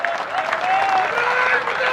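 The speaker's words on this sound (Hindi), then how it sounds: "एक बार जोरदार तालियां दोस्तों, एक बार जोरदार तालियां।" Audience applause at an Independence Day naat and poetry gathering, a steady wash of clapping throughout, with a faint tonal voice or music line running underneath.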